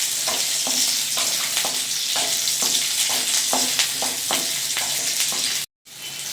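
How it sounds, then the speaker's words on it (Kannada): Green chillies and garlic fry in hot oil for a homestyle chicken curry, hissing steadily close up while a spatula scrapes and stirs in a regular rhythm, then a brief cut. "ಹಸಿಮೆಣ್ಸಿಕಾಯಿ, ಬೆಳ್ಳುಳ್ಳಿ ಎಲ್ಲ ಚೆನ್ನಾಗಿ ಫ್ರೈ ಆಗಿದೆ."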